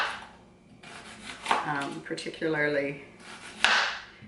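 A knife slices through an onion on a cutting board in a few firm taps while a person talks over it.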